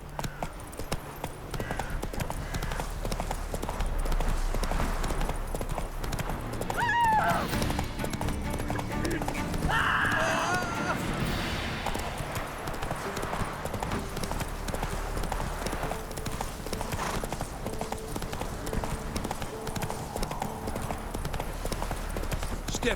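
Hooves of the horse Roach clip-clop at a gallop in The Witcher 3, a steady rhythmic pounding throughout, with a brief whinny and voices and game sounds around it.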